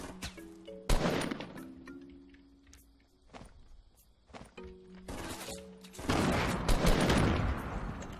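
Players shoot each other in a Fortnite battle royale match, with scattered single shots and short bursts crackling at mid distance and tones from the game running underneath, ending in a denser, sustained stretch of firing.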